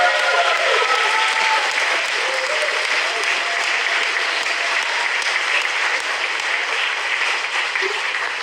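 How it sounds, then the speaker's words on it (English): An audience gives a loud, sustained round of applause at the end of a school debate, steady clapping throughout with faint voices mixed in. "If we can give them a final round of applause"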